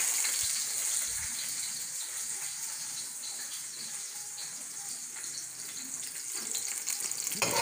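Chicken and garlic frying in a pan for Filipino chicken adobo, a steady, moderately quiet sizzle with crackling pops and a few louder knocks near the end, no talk.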